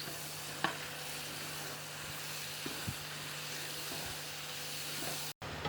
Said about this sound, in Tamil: பார்த்தீங்களா, பொரிஞ்சிக்கிட்டே வருது வெங்காயம்.